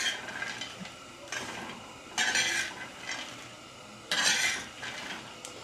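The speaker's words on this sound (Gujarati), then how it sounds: "મિક્સ તો કરું છું કેમ કે ગેસ બહુ ફાસ્ટ રાખ્યો છે." Peanuts roasting on a griddle over a high gas flame are stirred in repeated scraping, rattling sweeps with a faint sizzle underneath, close by and alone.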